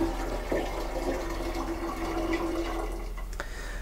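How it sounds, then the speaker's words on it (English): Water is poured from a mixing cup into the diffuser on top of a sauna BWT unit, a steady continuous trickle and splash with a low hum underneath. "we're going to pour it right in through the top of the BWT. There's a little diffuser on the top there, and we just want to pour that water in."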